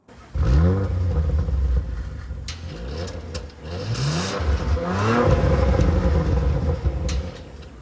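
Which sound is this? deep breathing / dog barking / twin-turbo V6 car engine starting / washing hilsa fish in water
twin-turbo V6 car engine starting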